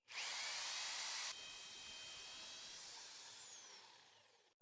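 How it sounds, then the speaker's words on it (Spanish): An electric drill with a 3/8 bit grinds off rivet heads on a washing machine, a loud high whine that winds down after a second or so and then holds a steady grinding tone before stopping. "acá tenemos entonces nuestro taladro con una broca de 3/8 y entonces procedemos"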